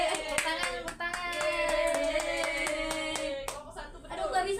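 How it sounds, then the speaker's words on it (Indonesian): A class of pupils claps hands in a quick, even rhythm, with sustained voices sounding over the beats before the clapping loosens and stops. "Tepuk tangan, tepuk tangan."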